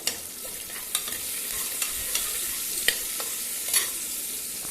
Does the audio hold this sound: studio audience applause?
no